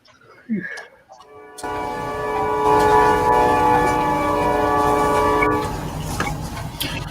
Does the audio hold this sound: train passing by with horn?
yes